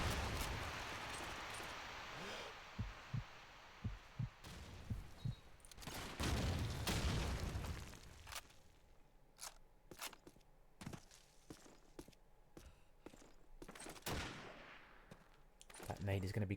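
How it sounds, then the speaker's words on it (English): Gunfire and a grenade explosion in the video game Call of Duty 2 during a competitive match, with bursts of shots, sharp single cracks and a heavy blast, while a caster talks over the action. "That nade is going to be close to Shroot."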